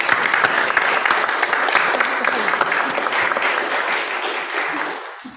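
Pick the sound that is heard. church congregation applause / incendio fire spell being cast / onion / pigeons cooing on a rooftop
church congregation applause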